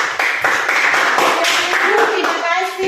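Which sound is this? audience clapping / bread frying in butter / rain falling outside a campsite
audience clapping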